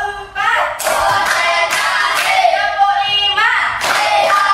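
Schoolchildren at an elementary school chant a counted clapping routine together, voices rising in short sung phrases with bursts of hand claps between them, close and lively in a classroom.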